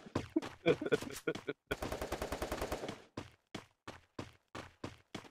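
Rapid bursts of machine gun fire in the game Free Fire, a long sustained volley in the middle between shorter clusters of shots, loud and punchy.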